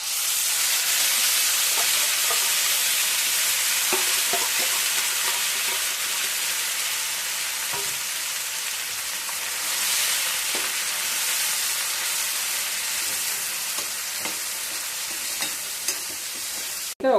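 Cashew paste, with onion and tomato paste, frying in a pan: a steady, loud sizzle and hiss with intermittent scraping stirs throughout.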